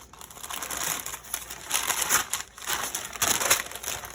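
A butter block for brioche-style Danish pastry dough is unwrapped, its wrapper crinkling and crackling in irregular, close bursts with no talking.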